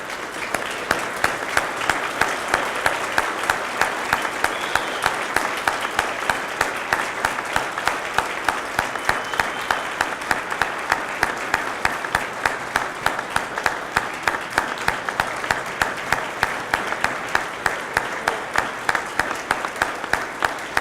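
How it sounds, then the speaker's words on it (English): Audience applause for Korean War veterans at a Veterans Day ceremony, a steady dense clapping that holds evenly for about twenty seconds with no talk over it. "please join me in another round of applause for our Korean War veterans"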